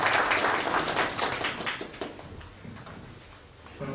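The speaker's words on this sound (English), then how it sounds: "Please give them a big round of applause." An audience at a WordPress theme review contribution session claps, loud at first and then thinning out and fading over a few seconds.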